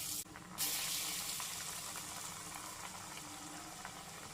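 A full batch of shapeless homemade teatime snacks frying in hot oil, a steady dense sizzling bubble that keeps going throughout, close and fairly loud, with no voices.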